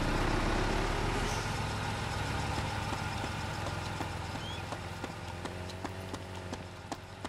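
A vehicle engine idles steadily in the Arma 2 video game, a continuous low rumble with sharp clicking footstep-like taps over it, fairly loud and without speech.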